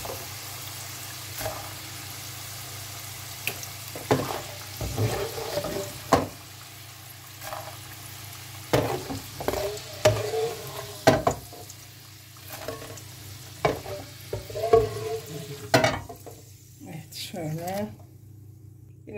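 Oil sizzling and crackling in a pan as potatoes fry, with stirring clatter and a voice talking over it.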